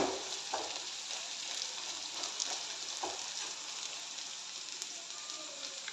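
Soya chunks frying over high heat in a thick wok, a steady dense sizzle with occasional soft stirring scrapes, close and continuous.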